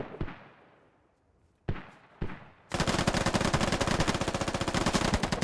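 Video game gunfire during a squad match: two or three sharp isolated shots with decaying echoes, then a loud, sustained rapid burst of automatic fire that runs to the end.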